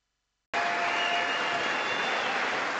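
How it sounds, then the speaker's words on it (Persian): A standing ovation in the US Congress: after a moment of silence, a large chamber bursts into loud, sustained clapping that stays thick and even to the end. "ده‌ها بار در چند دقیقه بی امان کف می‌زنند."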